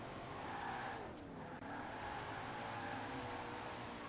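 Nash Metropolitan drifting in Forza Horizon 4, with a steady engine drone and continuous tire squeal held at an even level throughout, near and unbroken.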